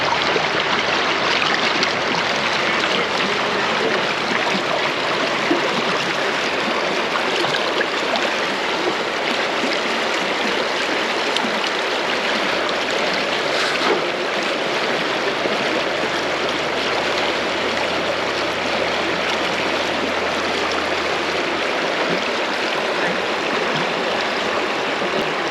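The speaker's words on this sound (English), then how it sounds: "In fast flowing water." Fast-flowing stream water rushes steadily and loudly at close range, a dense continuous wash with no pauses, heard alone without voices while gold panning.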